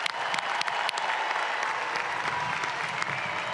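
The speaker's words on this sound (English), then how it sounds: "join me in giving the class of 2026 a congratulatory round of applause" Graduation audience at a North Carolina State University spring commencement applauding the class of 2026, a dense, steady wash of many hands clapping throughout with no break.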